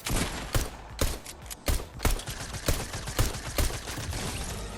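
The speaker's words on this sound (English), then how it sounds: "I'm finding it really difficult to use a shotgun. I can't hit a shot." Shotgun blasts in Fortnite crack out as a string of sharp, separate reports, roughly eight shots in under five seconds over faint mechanical clatter.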